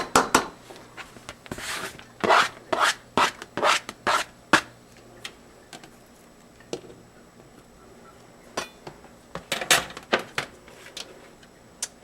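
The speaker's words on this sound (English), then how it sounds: "I'm going to go ahead and put my onions in" Onions go into a pot of hot coconut and olive oil and are stirred, giving a series of close scraping, rubbing strokes in uneven bursts with quiet gaps between them.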